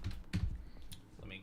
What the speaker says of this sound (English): Your typing sounds aggressive.